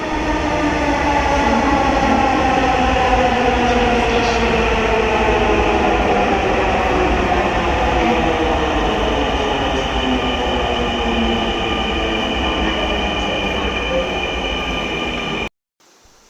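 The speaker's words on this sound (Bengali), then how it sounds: "একটু পরেই ট্রেন চলে আসলো।" An elevated metro rail train pulls in with a loud, continuous rumble and faint wheel squeal that holds steady for many seconds, then cuts off sharply.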